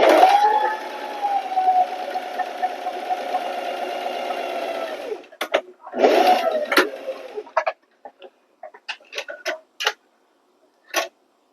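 Sewing machine back-stitching a fabric seam for a floppy sun hat, a steady whirring run of about five seconds followed by a shorter burst and then scattered clicks and handling taps.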